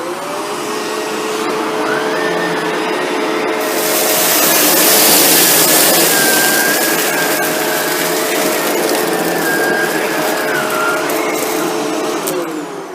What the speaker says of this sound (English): how close to the baseboards does the vacuum get when you're vacuuming